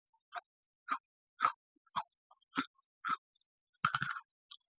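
Crunchy Oreo cookie half dipped in milk being chewed close up, about eight distinct crisp crunching bites at a steady rhythm against near silence, the last ones quicker and messier.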